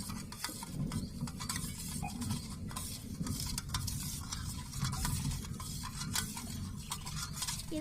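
A spoon stirring sugar into a raw mango drink mixture, continuous close swishing with rapid light clinks against the container throughout, no talking.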